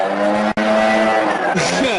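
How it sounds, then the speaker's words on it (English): A leaf blower runs right outside a closed window, a loud, steady droning engine whine that holds on and shifts pitch near the end. "I got the blower right outside my window right now"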